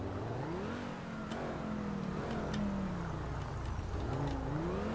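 A mint green Übermacht Niobe in GTA 5 Online revs steadily, its engine pitch sweeping up and down through the gears as it accelerates, loud and close with no talk over it.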